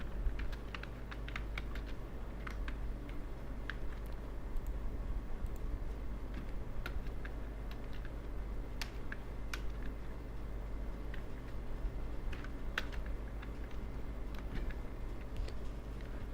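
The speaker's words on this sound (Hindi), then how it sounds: "यहाँ पे मैं डोमेन टेक्स्ट लिख देता हूँ।" Steady keystrokes on a computer keyboard while entering text into a CorelDRAW design, a continuous run of close clicks over a low background hum, with no one talking.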